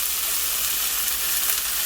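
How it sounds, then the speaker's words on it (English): Slices of turkey bacon sizzling in a hot pan, a steady bright crackling hiss throughout, close and continuous with no talking. "So we're gonna let that sizzle up, a minute, 2 minutes on each side."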